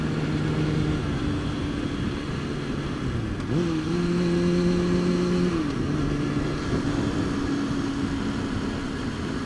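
A motorcycle engine drones steadily while the bike is ridden through corners, its pitch rising and then easing back as the rider works the throttle, with continuous wind rush throughout.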